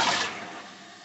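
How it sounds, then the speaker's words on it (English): A newly installed toilet in a mobile home flushes: a brief loud rush of water right at the start, fading into a steadier draining swirl and refill hiss. "That was a flush."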